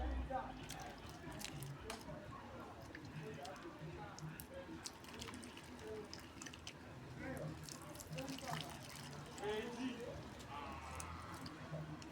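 Locust bean seeds are washed by hand in water, with close sloshing, squelching and dripping that continue throughout while voices talk over the washing.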